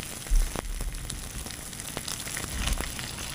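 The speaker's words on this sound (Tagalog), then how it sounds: "Konting mantika para sa ating ipipritong daing. So, yan na. Prito na natin." Dried fish sizzles and crackles in hot oil, a steady frying hiss with occasional pops close by.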